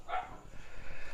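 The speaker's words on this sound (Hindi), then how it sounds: "देखिए कुत्ते भौंक रहे हैं" A dog barks once or twice at night, a short, fairly distant outburst near the start, then fading into quiet background noise.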